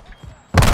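A Semtex grenade thrown in a shooter video game: a quiet, murmuring lead-in, then a sudden loud, close, heavy thud that rumbles on through the rest of the moment.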